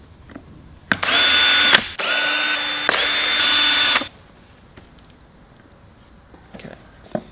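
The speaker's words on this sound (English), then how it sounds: "For this exercise, we're going to be using the drill just to speed things up a little bit." A cordless drill with an Allen key bit undoing screws on an electric skateboard deck, whirring loud and close in three bursts over about three seconds, followed by faint handling clicks and quiet.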